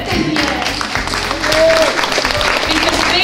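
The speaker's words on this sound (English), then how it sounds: "give people a big cheer" Audience applause and cheering at an Arbonne Mercedes presentation, loud sustained clapping from a room full of people with a voice calling out over it.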